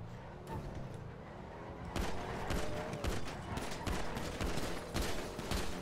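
Bursts of gunfire in a GTA roleplay game: rapid volleys and repeated sharp shots crackle loudly, thickening into a sustained fusillade after the first two seconds, with no voices over it.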